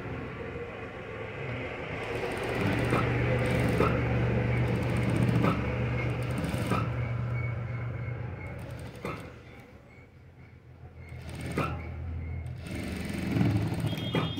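A sewing machine stitches blouse sleeves in bursts, its needle clattering rhythmically with creaks and pauses between runs, while someone talks quietly in the background.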